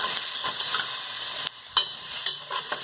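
Broccoli stir-frying in a pan with oyster sauce gives a steady hiss of sizzling, broken by sharp clattering scrapes as the pieces are tossed and stirred. No voices are heard.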